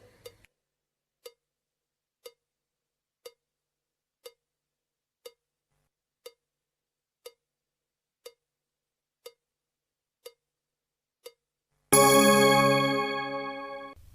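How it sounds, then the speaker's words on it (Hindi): A bell strikes about a dozen times at a steady one-second pace, each ding short and clear, followed by a sudden loud burst of broadband noise. "घंटी बजने पर"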